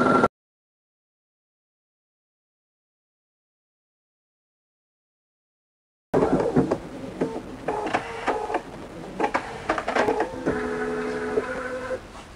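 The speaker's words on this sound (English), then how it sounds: "you can see the needles going up and down, up and down, up and down, and these cut out the fabric for you" An embroidery machine fitted with Inspira cutwork needles cuts through fabric, giving a quick mechanical chatter of needles going up and down with whirring motor tones, starting abruptly after a stretch of silence.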